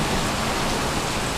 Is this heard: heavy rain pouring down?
yes